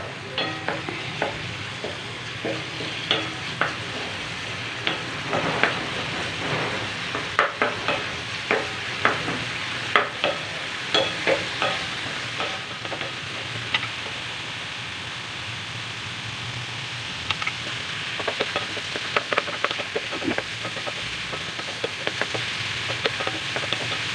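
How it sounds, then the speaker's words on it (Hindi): Tomato and onion masala fries in a pan, a constant close sizzle with frequent scraping stir strokes and light crackles running throughout. "अब मैं इसको फ्राई कर रही हूँ।"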